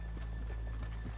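Horses' hooves clop at a walking pace in Red Dead Redemption 2. The soft, rhythmic hoofbeats are close by, with a steady low ambient hum underneath and no talking.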